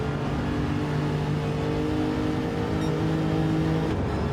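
Race car engine in a video game on the Tokyo South counterclockwise track, a steady loud drone holding throughout with a brief pitch drop near the end as a gear changes.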